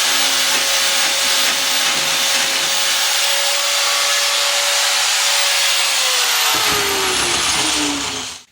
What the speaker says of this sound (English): try and strip off some of this paint